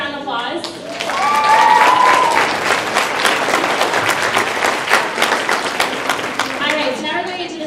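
Audience applause at a Lunar New Year celebration: a dense, loud burst of clapping that swells quickly and holds steady for several seconds, with a voice briefly heard over the start and fading near the end.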